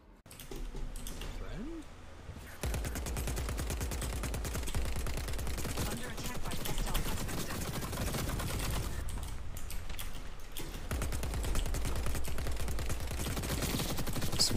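Video game gunfire from The Cycle, rapid automatic bursts rattling almost continuously and loudly after a quiet start, with a voice speaking over it at times.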